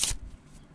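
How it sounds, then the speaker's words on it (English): Poker cards shuffled by hand, a single short riffle burst at the start that quickly fades to quiet room tone, close and alone. "However you like to do your shuffling."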